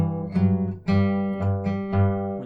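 An acoustic guitar alternates notes on the open third string in a tutorial, four or five clean plucked notes in an even rhythm, close and clear with no talking.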